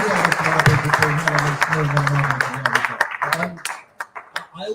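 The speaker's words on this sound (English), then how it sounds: "I think you deserve a big round of applause for this" Applause from an audience at a COP26 reception, starting as dense clapping mixed with a voice, then thinning into scattered individual claps as it dies away.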